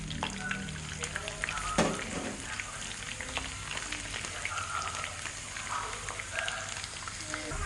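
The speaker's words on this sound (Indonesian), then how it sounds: "Jadi kita akan membuat bawang putih goreng dulu." Steady crackling sizzle of garlic frying in hot oil, with scattered pops and an occasional scrape of stirring.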